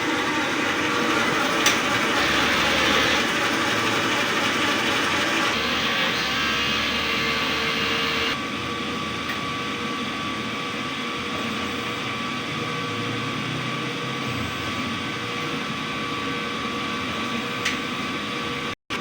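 An inkjet printer runs a print head cleaning cycle, a steady mechanical whir and hum close by that holds for most of the stretch with small shifts in tone and a click near the end.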